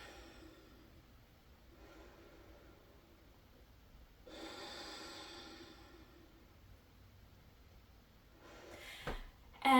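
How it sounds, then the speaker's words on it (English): Forceful purging breaths in a breathwork exercise, heard as a few soft, airy exhalation bursts with quiet gaps between, ending in a louder sharp huff. "we did some purging exercise through breath"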